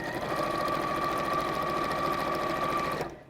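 A sewing machine top stitches a pleated bag in one steady, close, fast run of whirring stitches that stops just before the end.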